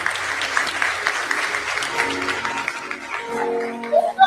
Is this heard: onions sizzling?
no